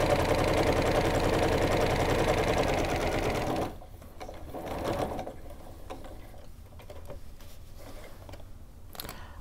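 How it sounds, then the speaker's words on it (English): Sewing machine stitching cross-hatch quilting lines, a loud steady mechanical whir for several seconds that stops abruptly, followed by quieter handling sounds and faint clicks. "now I'm just going to continue stitching, and then I'm going to flip it and stitch on the other side"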